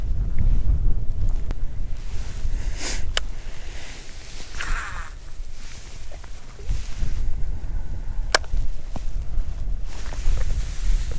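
Wind buffets a fishing boat out on the water, a continuous loud low rumble of gusts against the microphone, with occasional small knocks and clicks from on board.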